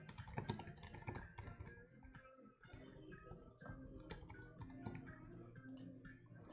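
Fingers type on a computer keyboard in quick, uneven bursts of soft clicks and taps, heard close and quietly with no one speaking.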